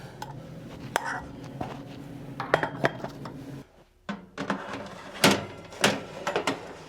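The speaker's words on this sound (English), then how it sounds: "Now we need to get trusty old muffin pan." A metal muffin pan is pulled out and handled in a cabin kitchen, giving sharp clanks and rattles scattered among softer shuffling. Quiet talk runs underneath.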